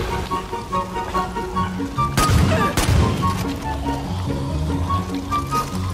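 Gunfire in Far Cry 5's Dead Living Zombies mode, with two sharp, loud blasts close together near the middle over a steady busy bed of game noise and a rain-like patter.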